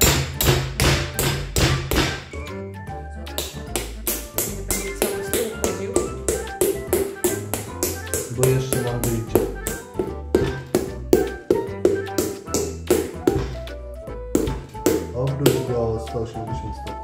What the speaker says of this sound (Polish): na pewno też użyję młotka, bo też chcę się pobawić po prostu młotkiem